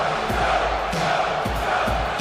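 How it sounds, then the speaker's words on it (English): A wrestling arena crowd in WWE 2K23 cheers loudly and continuously, with rhythmic surges of roaring and chanting filling the space. "The crowd going crazy"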